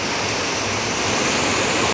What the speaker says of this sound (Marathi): पावसान धुमशान घातलेला हा